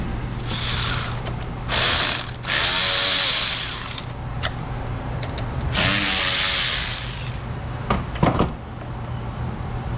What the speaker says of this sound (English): Now let's power this thing down and pull this battery out.